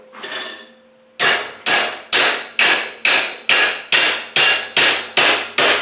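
A steel bar clamped in a vise is hammered over in a forge shop, ten loud ringing blows at an even, steady rhythm following a brief faint scrape.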